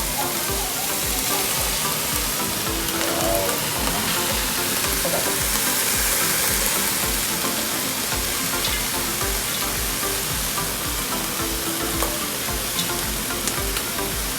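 Pieces of seared duck and vegetables sizzle and crackle loudly in a pot, a dense, continuous frying hiss with occasional stirring noises.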